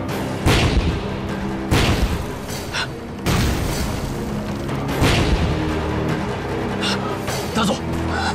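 Repeated heavy explosions boom through a war battle scene, several deep bursts in irregular succession under a dense, loud din.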